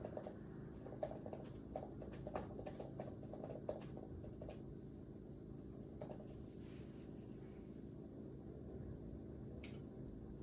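Keys clatter on a computer keyboard in quick irregular bursts over the first several seconds, then a few sparse taps, faint against a low steady room hum.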